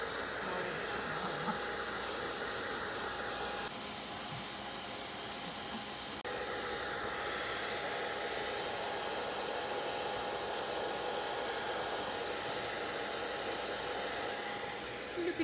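A hair dryer blows in a steady, loud whooshing drone while drying a freshly bathed chicken, the airflow shifting slightly in tone as it moves, with no voices over it.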